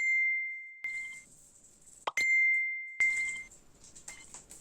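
A phone notification chimes twice as a clear, ringing ding, with a sharp knock between the chimes and quiet workshop handling noise after them.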